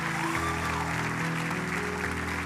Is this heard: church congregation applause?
yes